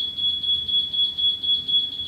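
A Bosch GRL800-20HVK-RT self-levelling rotary laser kit beeps at a steady high pitch in a fast, even pulsing pattern, close and clear with no talking.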